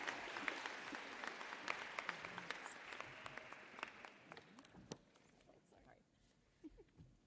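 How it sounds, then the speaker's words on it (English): A graduation closing ceremony crowd claps for a graduating class with steady, fairly distant applause that thins and fades away over several seconds, with faint voices under it. "Another round of applause for the class of Adams Martin."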